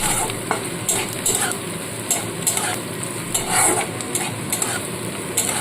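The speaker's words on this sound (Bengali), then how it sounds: "পেঁয়াজ আদা রসুন কাঁচা লঙ্কা একটু ভেজে নিতে হবে" Onion, ginger, garlic and green chili sizzle steadily in oil in a pan while a spoon stirs and scrapes in irregular bursts, close by, with no voices.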